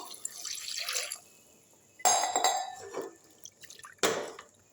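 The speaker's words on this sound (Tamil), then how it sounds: "இதில் ஒரு ஒரு டம்ளர் தண்ணி ஊற்றிப்போம்" Water splashes and trickles into a metal pressure cooker in a few short pours, with clinks of the vessel, quiet and close by.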